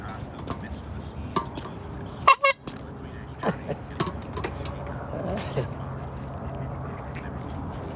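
Ducks quack in short, scattered calls on a park waterfront, fighting over food in the water. The calls sit over steady outdoor background noise and a few sharp clatters.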